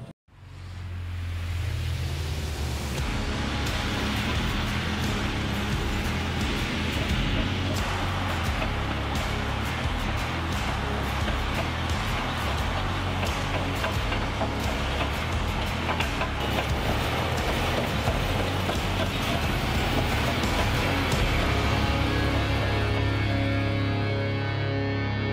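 A CAT D11R crawler dozer drives through a deep ripping pass on farmland, its heavy diesel engine and tracks producing a loud, steady low rumble and clatter that holds continuously from the start to the end.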